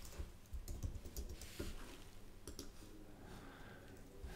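Keys clatter on a computer keyboard while text is typed into a Figma website design, irregular quick clicks in short bursts, close and quiet, with no talking.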